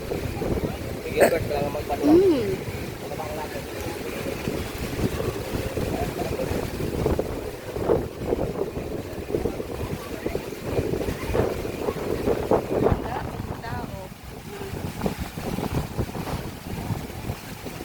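Strong wind roars and buffets steadily across the microphone beside moving water on a Boracay beach, with indistinct voices faintly underneath.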